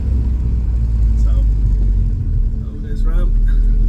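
A Honda VTEC engine rumbles loudly and steadily throughout a drive, a deep continuous engine drone with a brief dip in level near the middle before it swells again.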